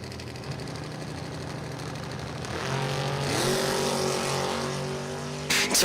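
Drag race cars, including a 1987 Oldsmobile Cutlass, launch at Numidia Dragway: a loud steady engine drone rises sharply as the cars pull away, then holds a strong roaring pitch before a brief clatter at the end.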